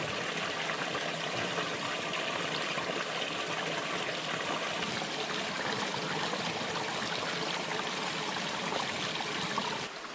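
A creek flows steadily with continuous rushing and gurgling water, close and even throughout, without voices.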